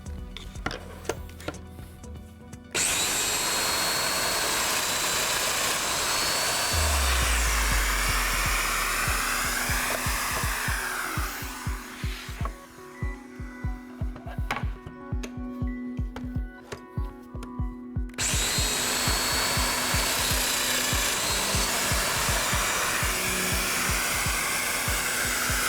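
Festool Domino jointing machine cutting mortises in a wooden workpiece, a high motor whine that rises in bursts with clattering plunge cuts and a quieter pause between runs.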